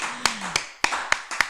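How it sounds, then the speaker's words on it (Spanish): Five sharp claps land one after another at an uneven pace in a small room, close and distinct with short gaps between them, from a small group applauding at a podcast recording. "Se merece un aplauso."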